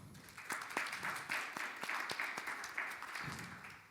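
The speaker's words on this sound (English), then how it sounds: "Please give a round of applause." Audience applause for a panel speaker at a business conference on integrators, a fairly quiet, moderately sized clapping with distinct individual claps throughout, no talking over it.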